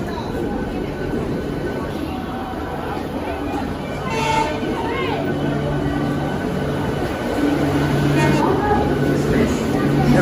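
Local train pulling into Kharagpur station on the route to Howrah: a steady low rumble with a faint tonal horn, crowd murmur and platform bustle throughout, the noise swelling slightly as it nears.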